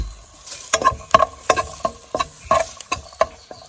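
A steady sizzle of garlic frying in a pan, broken by repeated scraping stirs at an irregular rhythm, close by with no talking.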